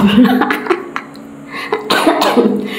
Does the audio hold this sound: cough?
yes